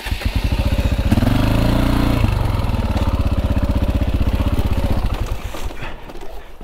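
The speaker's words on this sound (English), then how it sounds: "Oh, my bike's dying, I don't know why." A KTM 450 EXC dirt bike engine runs close by, chugging with a steady rapid beat that rises briefly around the middle, then grows uneven and falters toward the end as the engine sputters out. No one speaks.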